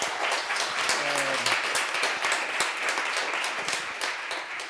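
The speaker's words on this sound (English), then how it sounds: "I think we should give her a round of applause for what she's done." An audience at a memorial conference on slavery in Moldavia and Wallachia gives a round of applause, steady clapping for several seconds that gradually thins toward the end, with a brief voice early on.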